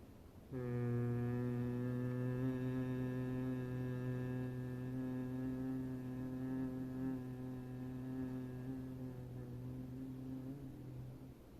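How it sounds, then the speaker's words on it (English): A person hums steadily on one long, forceful exhale through the nose during yoga bee breathing. The buzzing tone is close and rich, holds for about eleven seconds and fades slightly at the end, with no talking. "we're going to almost hum like a bee as we press it out"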